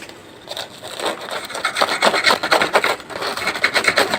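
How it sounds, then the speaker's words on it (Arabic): Toasted Syrian bread sandwich filled with melted cheese gives a close, crisp crackling crunch as it is pressed or broken, in dense irregular bursts that build over a few seconds, with no talking. "سامعين القرمشه؟"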